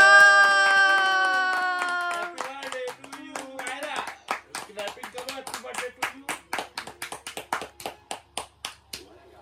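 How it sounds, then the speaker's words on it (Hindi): At a family birthday celebration, a sustained tonal melody plays first, then a group claps in a loud, fast, rhythmic run of sharp hand claps that continues to the end. "ताली बजाओ सब।"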